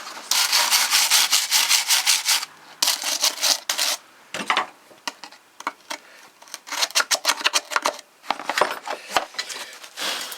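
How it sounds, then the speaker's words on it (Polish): Close, rough scrubbing of a petrol lawn mower with a brush and a bristle scrubbing brush comes in quick rhythmic bursts of strokes. Brief pauses and a few knocks break them up, and nobody talks. "Trochę, trochę pędzelkiem, trochę szczotką, żeby to ładnie nam wyglądało."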